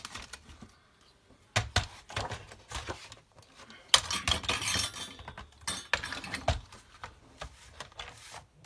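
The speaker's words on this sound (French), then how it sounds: "Donc je marque et je vais couper." Paper is cut for a scrapbook album page in a series of soft, irregular snips and rustles, faint and close, with scattered handling clicks and no talking.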